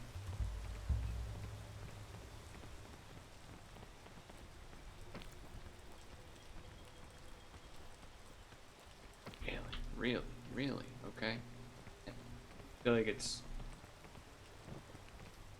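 Steady rain patters across a video game scene, with a faint low rumble early on, while a player talks briefly over it near the end.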